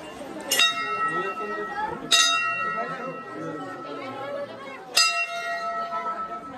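A metal temple bell at a village shrine on Holi is struck three times, each a bright ringing clang that fades slowly, while people chatter in the background.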